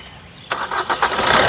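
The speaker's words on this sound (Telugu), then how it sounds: "ఇంజన్ ఒకసారి స్టార్ట్ చేసి చూపిస్తాను" After a brief quiet moment, the engine of a 2018 Maruti Suzuki S-Cross Zeta cranks with a few rapid pulses and catches, settling into a steady rumbling idle nearby.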